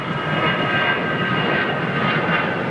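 An Air India Dreamliner jet at London Heathrow gives off a steady, loud engine roar with a broad rushing hiss, continuous and unbroken for the whole stretch.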